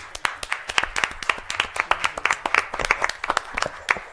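A small crowd at a school board meeting claps for a student and her family, with brisk, uneven applause continuing steadily at close range.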